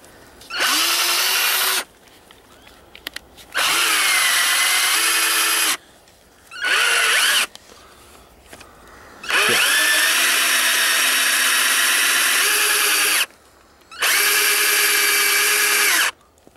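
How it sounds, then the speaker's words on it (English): A 2-inch power drill whirs in five separate bursts of a few seconds each, loud and close, with short silent pauses between them. "Just adjusting his 2-inch drill now."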